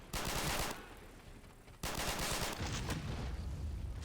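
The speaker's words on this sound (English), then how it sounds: "You hear that FG-42 back there in the distance." An FG-42 automatic rifle fires in the distance during a World War II video game battle in Italy: two rapid bursts of gunfire separated by a short lull, followed by scattered, fainter shots and background battle noise.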